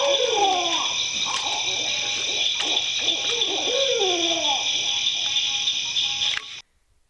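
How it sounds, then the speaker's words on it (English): A barred owl gives a rhythmic series of deep hoots in its 'who cooks for you' pattern. A constant high insect drone fills the night behind the call until it cuts off abruptly. "The barred owl's "Who Cooks for You" is often the first bird call people learn."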